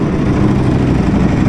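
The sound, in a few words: Ducati Panigale V4R motorcycle with Akrapovic exhaust starting up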